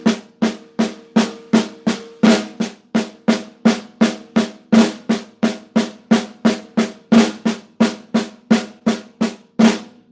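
Seven-note sticking lick played on drums without a rest, a fast unbroken stream of sharp snare and tom strokes with regular accented peaks, loud, close and continuous for about ten seconds.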